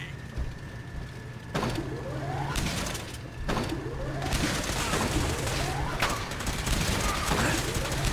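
Carbine fire in Fallout 4 sounds as a series of sharp in-game gunshots at roughly one-second intervals, over a busy game soundscape with someone speaking.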